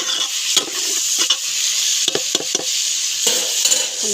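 Fish and brinjal curry frying in a pan, a loud continuous sizzle with repeated scraping stirs of a spoon against the metal, heard up close with no talking.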